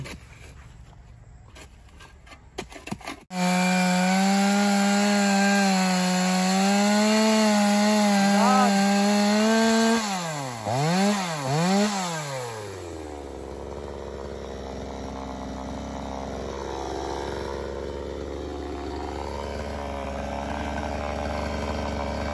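A chainsaw cuts into a large tree root, its engine roaring close and loud, bogging down and revving unevenly as it labors through the thick wood, then settling into a steady cutting drone.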